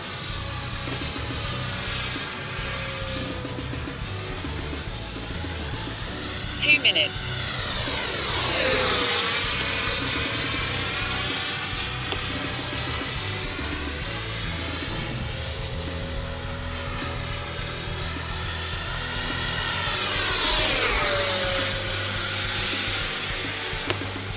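A remote-controlled jet plane flies overhead, its engine a steady whine that rises and falls in pitch as it makes passes, swelling louder around the middle and near the end; no voices.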